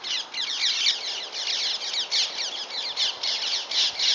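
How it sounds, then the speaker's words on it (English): Birds squawk and chatter noisily overhead, their harsh calls overlapping as though quarrelling. The scratchy, rapid bursts repeat throughout without pause and sound fairly close. "there's birds having an argument up there"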